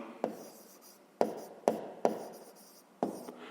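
Pen writing out a sum by hand on paper during a fifth-grade maths exercise, heard as several short scratchy strokes, each starting with a tap and trailing off, close and fairly quiet with no talk.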